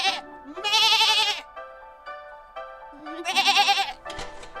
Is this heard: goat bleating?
yes